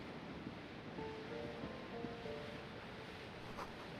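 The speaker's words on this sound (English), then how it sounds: "Waves crashing in the darkness." Ocean waves wash and crash in darkness within the game Disco Elysium, a steady, broad rushing surf with faint wind, heard alone without voices.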